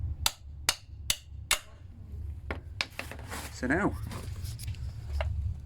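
A hammer strikes an M12 bolt threaded into a VW Beetle starter bushing, four sharp metallic blows in even rhythm, followed by scraping and someone speaking briefly over faint shop noise.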